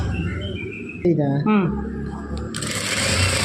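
A sewing machine stitches piping along a fabric fold, whirring steadily near the end after a stretch of talking.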